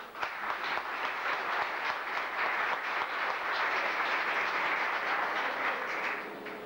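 Steady audience applause fills a university year-end cocktail reception, dense broadband clapping sustained evenly for several seconds before easing slightly at the end.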